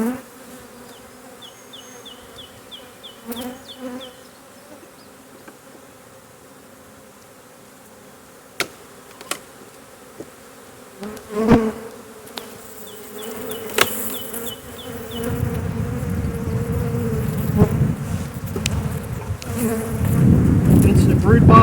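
Agitated honeybees buzz at an opened hive during Demaree swarm control, a continuous insect drone with occasional sharp clicks and knocks, swelling louder and rougher toward the end, with no voices.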